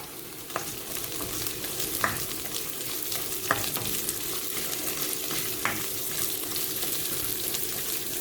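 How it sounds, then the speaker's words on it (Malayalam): Chopped shallots sizzle steadily in hot oil for a Kerala-style fish curry, a dense continuous frying hiss broken by a few sharp clicks of stirring, close and alone with no voices. "നമുക്കിപ്പം അരിഞ്ഞു വെച്ച ചെറിയുള്ളി ചേർത്ത് കൊടുക്കാം."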